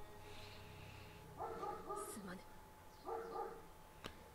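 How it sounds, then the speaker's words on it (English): Two close barks from a real dog, each a short cluster of yelps, sound faintly over the steady hum of game audio while someone plays Sekiro: Shadows Die Twice. "It's not my dog, but that's a dog."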